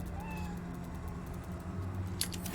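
A cat meows in the video game Baldur's Gate 3, a faint, brief mewing over a steady hum of game ambience, with a louder clatter near the end.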